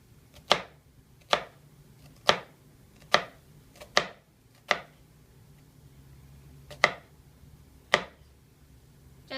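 A knife cutting vertical slits into an onion on a board: eight sharp, close chops at an uneven, roughly one-per-second pace, with no talking.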